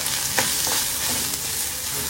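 Vegetables fry in oil as a natural spice masala is stirred in over a camp stove at a forest campsite, making a loud, constant sizzle with steady stirring noise throughout.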